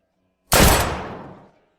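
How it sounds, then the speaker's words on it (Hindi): A single sharp gunshot bursts out suddenly and decays over about a second, loud and close, with silence before it. "अपने शरीर को स्थिर रखो और फिर गोली चलाओ।"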